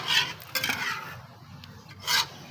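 Eggs being stirred in a hot frying pan, cooked in the sun's heat: scraping utensil strokes against the pan come in short bursts with a faint sizzle underneath, close and clear, and no speech.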